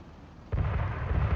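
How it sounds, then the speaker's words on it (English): Gunfire in a World War I video game breaks in suddenly after a brief quiet moment, then continues as a loud, low, rumbling barrage of overlapping shots. "they're shooting at us"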